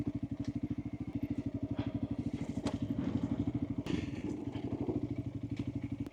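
A Honda CRF300L trail motorcycle thumps along at a steady, even engine pulse, with clatter and knocks from the rough trail mixed in, loud and close throughout.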